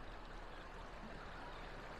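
A river flows beside a riverbank campground on a hot summer day, giving a steady, soft, even rushing wash with no voices.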